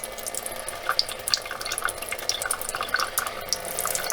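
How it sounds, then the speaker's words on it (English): Water runs from an RV tap with the pump off, after a pressurized accumulator has been fitted. It makes an even, unbroken trickling splash into the sink, close and steady, with no surging. "Water seems to stay at a nice even flow. It's not surging."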